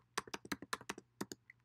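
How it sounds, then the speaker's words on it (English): Fast typing on a computer keyboard, a close, quiet run of about a dozen crisp key clicks in an uneven rhythm with a brief pause near the end. "and then type in"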